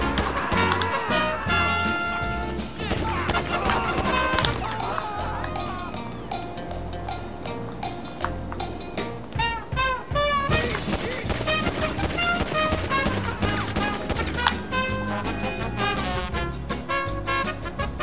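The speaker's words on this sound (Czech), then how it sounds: "vytáhněte svoji zbraň a začněte střílet" Shots fired by police at fleeing suspects in GTA 5 Online, rapid pops mixed into busy game sound with music, running footsteps and voices talking throughout.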